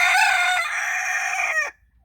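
A Chinese silkie rooster gives one loud, close crow lasting well over a second, held steady before cutting off sharply, with nothing else around it.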